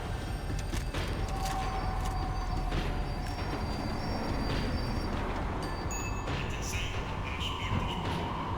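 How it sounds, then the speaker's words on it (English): A tram in the Max Payne 3 video game slowing down, with a continuous low rumble, rail squeal and rattling mechanical clanks heard close and steady from start to finish. "The tram was slowing down, and I'd only just gotten on board."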